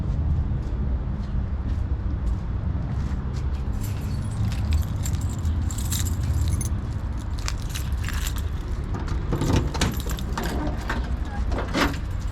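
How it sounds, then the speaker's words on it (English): Car keys for a 1988 Nissan Sentra jangle and clink in scattered bursts while being fetched, close by over a constant low rumble and handling noise. "Let me get the keys."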